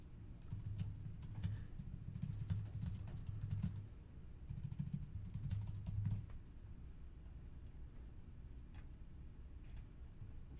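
Steady close keystrokes on a computer keyboard as new text is entered in a web page editor, a quick patter of clicks with a dense burst in the first six seconds before the tapping thins out.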